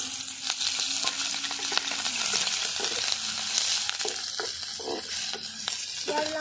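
Onion and chili fry in a little oil in a wok, giving a steady close hiss and sizzle broken by scraping stirs and clinks, with no talk.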